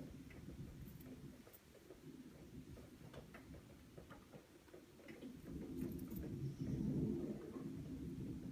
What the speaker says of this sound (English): Ooh, is it thundering out?